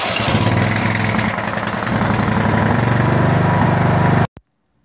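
Briggs & Stratton 16 hp OHV engine on a Craftsman riding mower runs steadily and loudly up close with a dense throbbing drone, then cuts off abruptly near the end, leaving silence.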